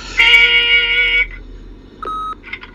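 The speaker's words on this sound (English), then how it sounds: "Leave a message at the beep and we'll get back to you as soon as..." Answering machine beep in the video game The Wolf Among Us: one long, loud, steady electronic tone, then a shorter tone and a few faint blips, with no voices over it.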